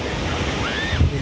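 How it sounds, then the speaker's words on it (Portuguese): Sea surf washes continuously at Praia Grande beach in Arraial do Cabo, a steady close rushing wash with a low thump near the end and faint bird-like whistles above. "O mar é maravilhoso."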